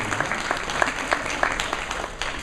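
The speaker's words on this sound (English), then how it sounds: "Give them a round of applause for joining our new community." Audience applause at an anime convention opening ceremony, a steady wash of clapping with scattered sharper claps, fairly close and continuous throughout.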